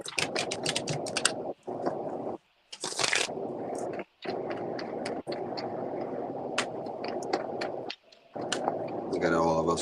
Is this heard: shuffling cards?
yes